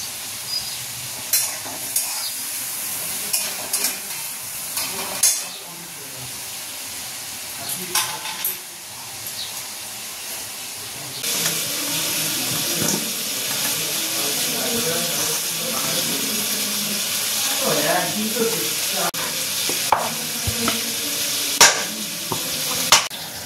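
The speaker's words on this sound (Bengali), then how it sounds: "পরোটাগুলো সব লাল লাল করে ভেজে নিই।" Parathas fry in a pan, first as a quieter sizzle with scattered clinks and knocks, then a much louder, dense, hissing sizzle takes over with occasional scraping sounds.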